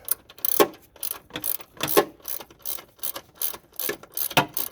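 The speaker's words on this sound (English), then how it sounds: "once you got the nuts on there, go ahead and tighten them down" A hand ratchet clicks in quick bursts while tightening the strut nuts on a 2008-2016 Chrysler Town & Country front strut and coil spring assembly, close and fairly loud, with short pauses between each run of clicks.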